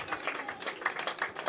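Studio audience applauding an Olympic volleyball champion on a French sports show, a brief burst of close, quick handclaps at moderate volume.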